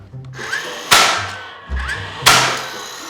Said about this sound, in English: You can nail right into that miter if you want.